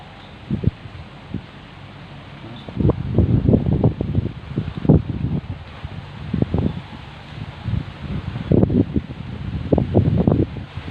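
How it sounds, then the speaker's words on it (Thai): Strong wind blows outdoors at a fishing spot where climbing perch and gourami are caught, buffeting the microphone in repeated rough gusts that rise and fall over the whole stretch, with no voices. "ลมแรงมากเลยวันนี้"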